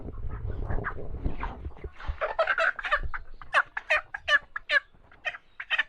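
Chickens on a poultry farm, including one hen recovering after medicine for an insect infestation, give a run of short, repeated clucking calls that grow louder and more rhythmic toward the end, with no talking.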